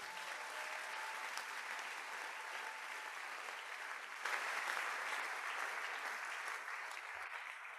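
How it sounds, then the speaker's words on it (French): A church congregation at a family worship service claps in sustained, dense applause that swells slightly halfway through and carries on steadily to the end. "Acclamons le Seigneur"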